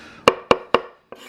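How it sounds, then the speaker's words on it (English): Nakiri knife chopping vegetables on a board, four crisp close knocks, three in a quick even rhythm and a softer fourth after a short pause. "this is an excellent knife for your vegetables, for chopping"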